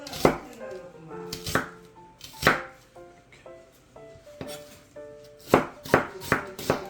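A knife cuts through tofu onto a cutting board, producing irregular sharp taps, close and clear, speeding into a quicker run near the end.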